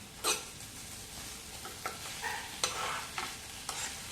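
Tomatoes and a small piece of ginger sauté in a pan for tomato chutney, making a soft, steady sizzle broken by several sharp scraping strokes of stirring.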